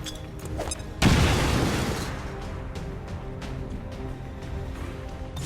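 A grenade explodes in XCOM 2 with a single sudden, loud boom that rumbles and fades over a few seconds, after some faint clicks and a few soft knocks.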